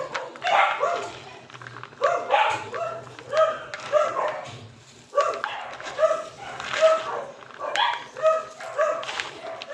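Several rescued and stray dogs bark and yip repeatedly in bursts at morning feeding, fairly close and loud, with some whimpering mixed in throughout.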